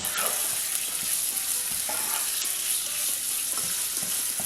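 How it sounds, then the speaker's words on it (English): Bacon fries in a generous amount of oil in a pan, producing a continuous close, crackling sizzle with occasional small pops and stirring sounds and no talking. "So let's add some bacon to some oil."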